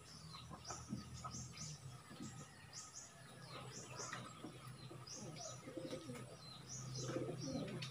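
Pigeons housed in a cage coo softly and repeatedly, with soft chirps and faint rustling among the steady cooing and no talking.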